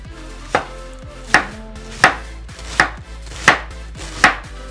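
A knife chops through cabbage on a cutting board in a home kitchen, six crisp, evenly spaced strokes about one second apart, close and clear over a low steady hum with no talking.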